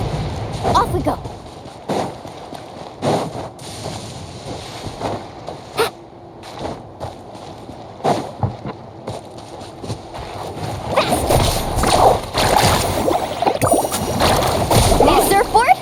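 Surfboard carving through waves in the video game Genshin Impact, with repeated rushing splashes and watery surges that swell louder toward the end, under bursts of in-game effects.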